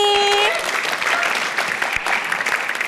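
Studio audience applause for a guest on a comedy stage show, a dense burst of clapping that starts over a fading musical sting and continues steadily throughout.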